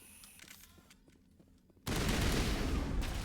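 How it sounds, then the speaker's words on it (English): A bug exploding in Mass Effect erupts suddenly as a loud, dense blast that keeps roaring with noisy debris after a quieter stretch of faint clicks and ambience. "Exploding spooky bug."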